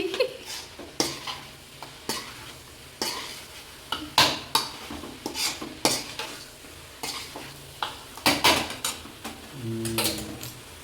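A utensil scrapes and clatters against a pot while chicken gravy masala cooks, with repeated stirring strokes at an uneven rhythm over a faint sizzle, close and fairly loud.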